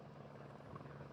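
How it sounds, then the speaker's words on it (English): A helicopter hovers over the Baja 500 off-road race course, giving a steady, loud rotor drone with a deep, even throb that holds throughout without any talk. "The helicopter is hovering."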